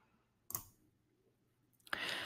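Two sharp mouse clicks selecting an option in software, spaced about a second and a half apart, close and crisp against a quiet room, with no talking.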